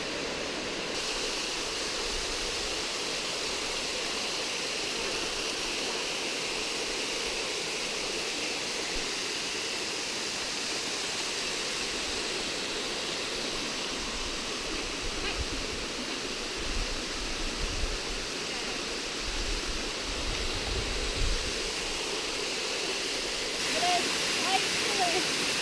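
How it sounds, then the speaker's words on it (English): Steady, loud roar of nearby Spoon Auger Falls on the Chattooga River, continuous broadband rush throughout, with faint voices briefly audible beneath it. "Spoon Auger Falls. Another big one."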